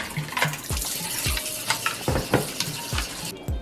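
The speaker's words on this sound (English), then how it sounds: "Mix it up in the water so you have that even distribution" Water stirred in a container to mix seasoning for ham and shrimp curry fried rice, a close run of sloshing, splashing stirs with a few small knocks.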